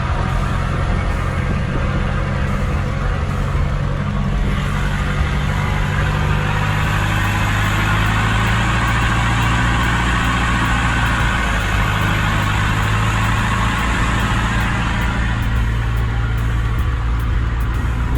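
A steady, droning vehicle engine idles and labors continuously while winching a boat up a long boat ramp, loud and close, with a low rumbling hum and no voices throughout.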